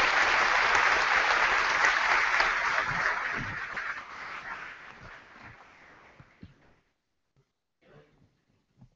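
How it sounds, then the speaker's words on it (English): Audience applause at a university commencement ceremony in 2014, a full sustained roar of many hands that gradually fades out over several seconds, leaving near silence with a few faint stray sounds. "Please join me in giving them a round of applause."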